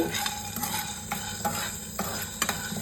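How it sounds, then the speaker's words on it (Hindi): Peanuts dry-roast in a pan without oil, stirred in repeated scraping strokes with light rattling against the metal over a faint background hiss, quiet and close. "मूंगफली को भूनने के लिए तेल डालने की ज़रूरत नहीं है।"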